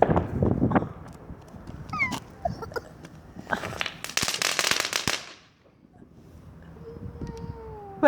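Firework bangs and crackling bursts near a two-year-old girl, with a dense cluster of sharp explosions in the middle, then a quieter tail with a faint whistling tone; mid-range loudness, no clear talk.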